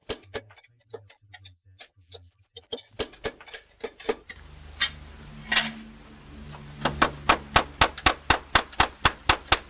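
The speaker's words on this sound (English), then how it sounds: "Each hammer blow is deliberate." A hammer strikes roofing slate as it is shaped by hand for German slate roofing restoration work, giving sharp, evenly spaced taps close up that settle into a quick steady rhythm.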